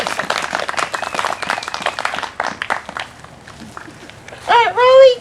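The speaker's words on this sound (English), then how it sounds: "Everybody give the chair of the week a round of applause." Applause from a comedy-show audience in Irondale, Alabama, a dense burst of clapping with cheering voices that thins out partway through, followed by a loud whooping shout near the end.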